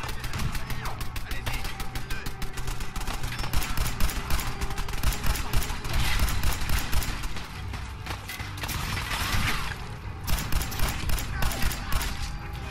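An enemy turret in Fallout 4 fires rapid bursts of automatic gunfire, dense rattling volleys with mechanical clatter that keep going through the whole stretch, with brief talk mixed in.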